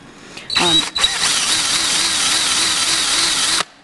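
Power drill with a 15/64 inch bit boring into wood: a short trigger burst, a brief pause, then a steady high whine for about three seconds with the motor pitch wavering as the bit bites, loud and close, ending abruptly.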